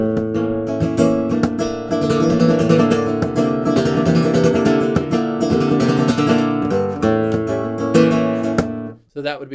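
A flamenco guitar strummed in a bulerías rhythm played in triplets, loud and close with rapid rasgueado strums and accents, cutting off abruptly near the end.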